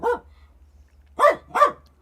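A puppy barks three times, one short bark followed after a pause by two quick barks close together, near and clear over a low steady hum.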